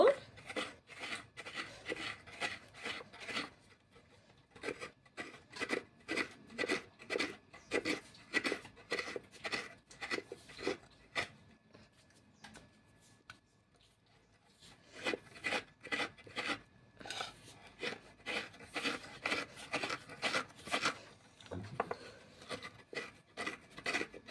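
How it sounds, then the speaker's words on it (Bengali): Coconut being grated by hand for a Bengali prawn malai curry, a quick run of rhythmic rasping scrapes in bursts with brief pauses between, fairly close and moderately quiet. "নারকেলটা এবার কুড়ে নেব"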